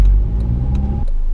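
A Honda Civic Type R's engine drones loud and close from inside the cabin, a steady rising hum that cuts off sharply near the end, with no talking over it.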